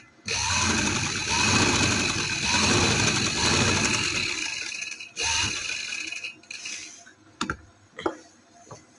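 A sewing machine stitching fabric for a shalwar runs in a steady, close whirring stretch of several seconds, then stops and restarts in a few short bursts with light clicks between.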